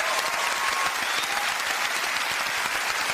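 Studio audience on a television talk show applauding and cheering after a musical performance, a dense, steady wash of clapping that stays loud and even throughout with no talk over it.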